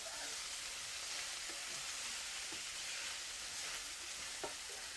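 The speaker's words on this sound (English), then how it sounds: "I'm gonna go ahead and put the green onions in there." Green onions sizzle steadily in a hot frying pan for an egg roll in a bowl, a continuous crackling hiss with faint scattered pops and no talk.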